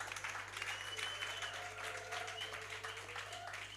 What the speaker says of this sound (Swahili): Mpigieni Yesu makofi.